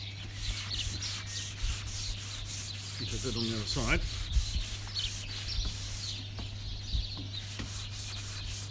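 Sandpaper rubbing across a wooden outdoor table being restored, a steady gritty scraping with repeated strokes, close and continuous, while a voice speaks briefly and birds chirp faintly in the background.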